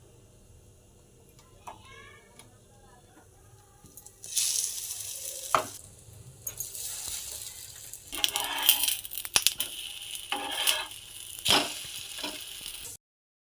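A bread omelette fries in oil in a pan. After a few quiet seconds, a loud sizzle breaks out and keeps crackling, rising and falling with bursts of stirring and scraping, then stops abruptly.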